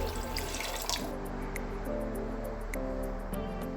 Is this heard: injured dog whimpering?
no